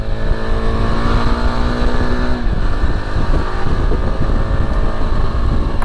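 A Yezdi Adventure motorcycle engine is revved on the throttle during a ride, a loud, close, continuous drone that holds a steady pitch and then shifts into rougher, fluctuating revs, with no talking over it.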